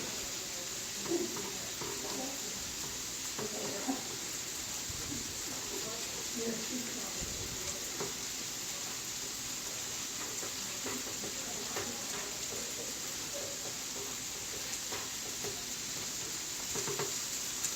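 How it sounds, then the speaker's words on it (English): Egg frying in a pan for shrimp fried rice, a faint steady sizzle with light scraping and clinks, while a person talks over it and birds coo faintly nearby. "take your egg, and just pour it in there. When the egg starts cooking a little bit, I'm going to break it up"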